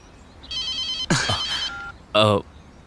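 A telephone rings with a bright electronic trill, two short bursts separated by a pause, and a voice speaks briefly between them.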